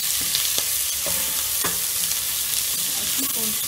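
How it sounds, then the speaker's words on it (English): Onions frying for beef masala are stirred in a pan, a steady hiss of sizzling under a few sharp scrapes and knocks of the spoon, close and continuous. "And then I'll keep on stirring."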